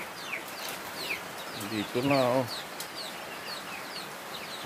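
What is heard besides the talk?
chickens clucking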